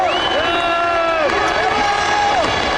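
Big racetrack crowd cheering at the CART 2003 German 500, a loud continuous roar of voices with rising and falling whistle-like tones across the stands.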